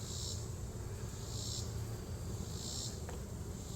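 Honey bees at an apiary hive, a faint continuous buzzing hum with a few brighter swells, no talking.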